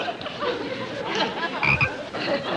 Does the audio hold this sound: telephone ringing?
no